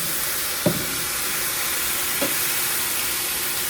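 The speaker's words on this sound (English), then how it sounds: "Stir that right in there" Minced garlic stirred in a hot frying pan for an egg roll in a bowl, a soft continuous sizzle with two brief scraping stirs of the utensil, no voices.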